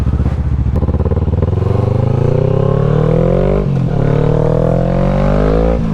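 A motorcycle revs hard and pulls away on a stunt lot, its loud engine climbing in pitch through the gears, close and continuous, dipping briefly near the end before rising again.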